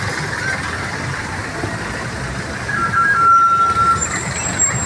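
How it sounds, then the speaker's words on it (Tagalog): Heavy traffic rumbles steadily in front of Binondo Church in Manila, with truck and bus engines idling and a brief air-brake hiss partway through, all close and continuous without talk. "Matraffic ngayon. Grabe sa Divisoria ngayon. Sobrang traffic."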